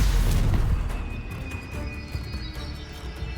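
A Stupefy spell blast in the video game Hogwarts Legacy hits as a deep booming impact at the start, then decays into a rumbling tail with scattered crackles and ringing tones.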